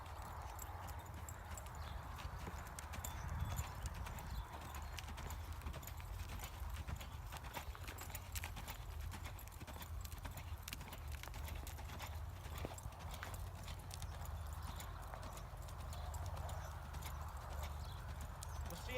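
A horse's hoofbeats as it canters in an arena, a faint, distant rhythmic thudding over low steady background rumble, with occasional talk.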